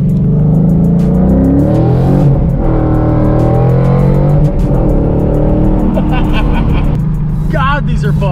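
A Ford Mustang engine revs hard and loud up close, pitch climbing and falling through several rising sweeps with a tire squeal near the end, while a person talks over it.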